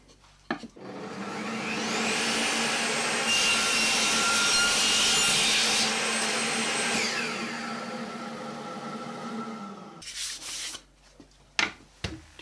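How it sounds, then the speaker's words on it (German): A hand saw cutting off a piece of wood in a workshop while building a wooden desk lamp, a steady rasping back-and-forth scrape lasting several seconds, close and loud, then a few knocks and rustles as the cut ends. "Wir können ja ein Stückchen abschneiden und dann schauen,"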